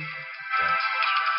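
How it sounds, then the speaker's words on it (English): Mobile phone ringtone sounding nearby in a room, a steady electronic tone lasting over a second with no voices. "Was my phone going off?"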